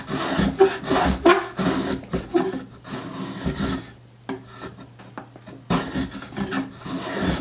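Homemade wooden block plane taking shavings off a board in repeated strokes, each a close, loud rasping hiss with short pauses between passes; no talking.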